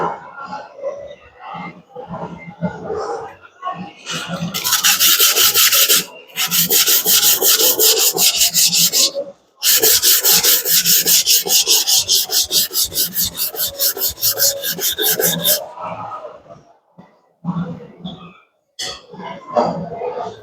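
A 250mm Takeda NAS gyuto knife is hand sharpened on a whetstone, with long runs of close, loud, rhythmic scraping strokes broken by short pauses and softer rubbing at the start and finish.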